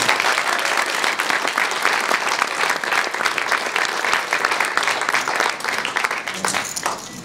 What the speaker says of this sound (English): Give a nice round of applause for Larry Ryan.